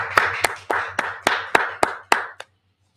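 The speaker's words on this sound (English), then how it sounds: "Let's clap it up." Group of people clapping hands in unison at the close of a Feast of Purim gathering: eight sharp, evenly spaced claps, fairly close and loud, ending abruptly into silence.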